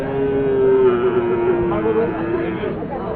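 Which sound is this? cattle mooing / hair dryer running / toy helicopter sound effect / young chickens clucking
cattle mooing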